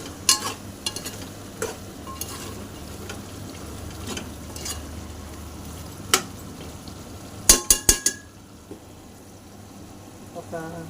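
Mutton curry with chili powder being stirred in a pan, a steady low sizzle with soft scraping throughout and a cluster of sharper clacks of the spoon against the pan near the end.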